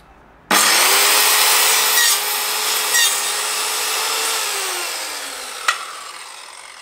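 A loud Evolution Fury 1B power saw starts abruptly and whines steadily through wood, its pitch sagging under load, with brief harsh catches as the blade bites through embedded nails about 4 mm thick.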